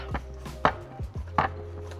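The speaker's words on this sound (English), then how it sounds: "I'm going to use my palm and I'm just going to knead it in until it's smooth." Bao bun dough kneaded by palm on a cutting board: a handful of soft, dull thuds and pats at an irregular pace, close by, with no talking.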